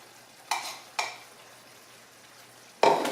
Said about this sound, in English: now you're going to go ahead and stir in your 1/4 of a cup of grated Parmesan